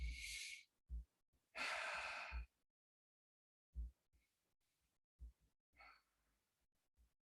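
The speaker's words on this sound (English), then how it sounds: "some basic abdominal breathing" Slow abdominal breathing during Iron Shirt qigong practice: a series of close, audible inhales and exhales in separate bursts with quiet pauses between them.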